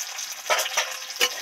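Tomato pieces frying in a pan with softened onions for a Bengali ol chingri dalna, giving a close, continuous sizzle with a few quick stirring scrapes.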